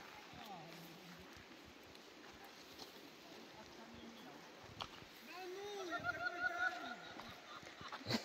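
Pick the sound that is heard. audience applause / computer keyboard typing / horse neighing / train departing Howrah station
horse neighing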